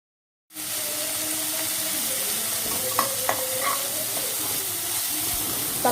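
Chopped onions fry in a pan for kadai paneer masala, giving a steady, close, even sizzle and hiss with a few faint stirring clinks partway through.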